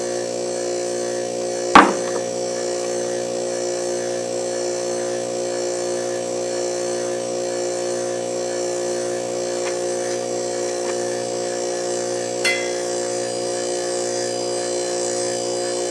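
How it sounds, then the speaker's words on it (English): A homemade vacuum pump's electric motor drones with a constant buzzing hum, interrupted near the start by a sharp clunk and later by a faint click. "But there is an easy way to make a vacuum pump."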